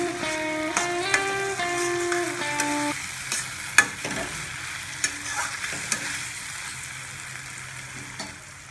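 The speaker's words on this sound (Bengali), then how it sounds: "মশলা কষানো হয়ে গেলে আমরা এর মধ্যে ভেজে রাখা আলুগুলোকে ছেড়ে দেব এবং আবার নেড়ে নেব।" Fried potatoes are stirred into cooked-down masala in a pan for a small-fish curry, giving a steady frying sizzle with repeated scraping clinks and knocks. A tonal hum lingers over the first few seconds.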